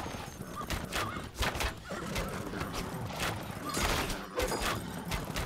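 Cavalry from Age of Empires charge in a dense stream of galloping hoofbeats and clatter, with whinnying horses rising over the continuous battle noise, loud and sustained throughout.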